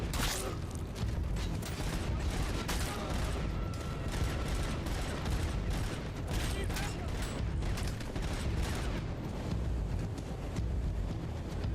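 Gunfire in the video game Robocop: Rogue City, dense rapid bursts of shots crackling almost without pause across the whole stretch, loud and close over a rough, windy background.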